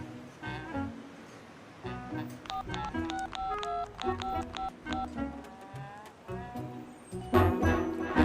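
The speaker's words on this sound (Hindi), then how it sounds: "मुझे एक फोन करना है।" A run of telephone keypad tones, short beeps pressed one after another in an uneven rhythm, fairly quiet, with some background noise at the end.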